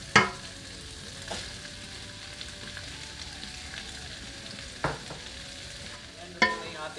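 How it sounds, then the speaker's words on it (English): Shrimp frying in a pan for a creamy sipo egg dish gives a steady close sizzle for several seconds, with a few sharp utensil clacks and scrapes against the pan early, midway and near the end. "So habang niluluto natin yung shrimp natin"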